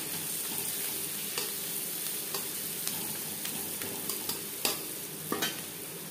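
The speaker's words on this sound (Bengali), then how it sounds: "পেঁয়াজের সাথে মশলা আরও 2-3 মিনিট নাড়াচাড়া করে নেওয়ার পর" Onions and spices frying and being stirred in a pan while making aloo chicken curry: a steady close sizzle with scattered scraping stirs and clinks, no talk.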